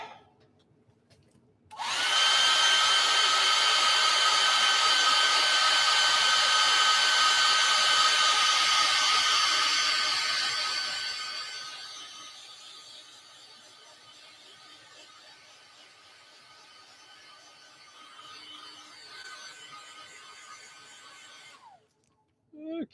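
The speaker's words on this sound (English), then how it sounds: "To me, my hair dryer." A hair dryer blasts steady, loud air over a freshly painted miniature figure for about ten seconds, then drops to a softer, lower whir before cutting off near the end.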